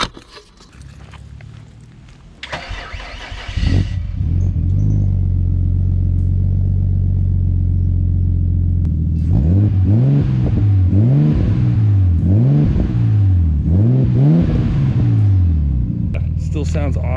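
A project car's engine cranks and catches on a warm start, settling into a deep, throaty idle, then revs up and down in several rhythmic blips; loud and close, with a person talking briefly before it starts.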